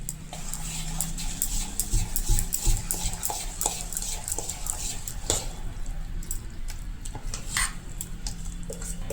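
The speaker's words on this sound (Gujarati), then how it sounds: "હવે બધું બરાબર મિક્સિંગ કરી લેશું." Handvo batter being stirred in a bowl, with repeated scraping and clinking strokes of a spoon against the bowl at a steady rhythm, close and fairly quiet.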